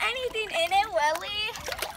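Thick Ooze Baff slime bath goo being scooped and sloshed by hand, giving wet squelchy splatters close to the microphone while someone talks excitedly over it.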